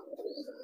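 Racing pigeons in a loft give a faint, continuous low cooing burble, with no speech.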